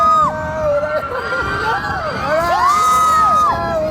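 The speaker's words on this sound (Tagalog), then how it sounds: "Sa sigaw pa lang, kinakabahan na." Riders on amusement park rides scream together, a loud, continuous mix of rising and falling shrieks and cheering voices from a crowd.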